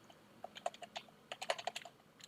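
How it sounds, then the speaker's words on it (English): Quiet bursts of keystrokes on a computer keyboard, a quick irregular run of clicks over about two seconds, close and faint. "so I should start typing"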